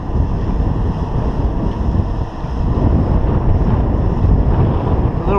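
Strong southwest wind gusts buffet the microphone during a boat haulout, a loud, continuous roaring rush with low rumbling and no talking.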